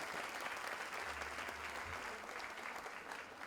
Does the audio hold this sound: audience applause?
yes